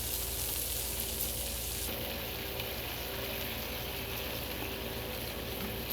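Cheese fries cook on a Blackstone griddle and air fryer combo outdoors, giving a loud, steady, unbroken sizzle throughout with no talking.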